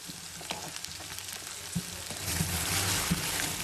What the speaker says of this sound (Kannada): ಈ ಚಟಪಟ ಸೌಂಡ್ಗೆ ವಾಯ್ಸ್ ಕ್ಲಿಯರಾಗಿ ಕೇಳಿಸಲ್ಲ